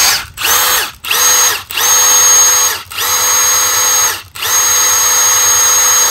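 A Milwaukee M18 2853-20 cordless impact driver runs unloaded in five loud, close bursts of high whirring motor whine, separated by brief pauses, with no talking.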